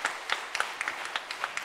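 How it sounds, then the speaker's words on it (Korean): A church congregation gives a brief round of applause after a special song, scattered sharp claps that sound fairly faint and distant. "우리 박수로 한번 격려하겠습니다."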